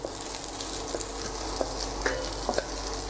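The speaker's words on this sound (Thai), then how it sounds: "พริกขี้หนูสับ 15 กรัม ผัดให้หอมก่อนนะครับ" Chopped bird's eye chilies stir-fried in a hot pan for a Thai basil pork dish, a steady close sizzle with occasional scrapes and taps of the spatula stirring.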